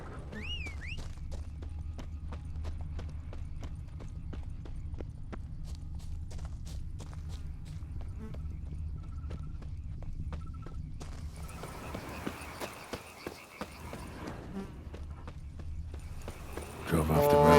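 Roach, a horse in The Witcher 3: Wild Hunt, clip-clopping along a road in a steady walking rhythm of sharp hoof strikes over a low ambient hum, with a brief whinny near the start and other sounds rising late on.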